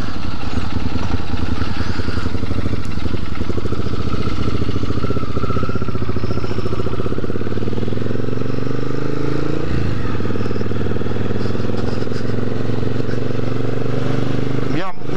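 An old motorcycle engine runs steadily nearby with a rough, clattery idle, rising in pitch partway through, with speech over it.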